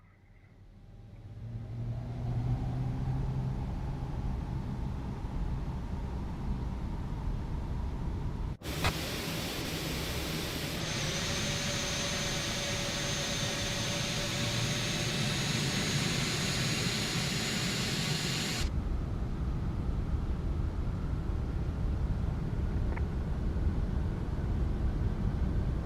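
Three jet engines of a Lockheed L-1011-500 TriStar in Pan Am livery spool up in Microsoft Flight Simulator, a loud, steady roar that builds and holds with a bright, harsher band in the middle stretch.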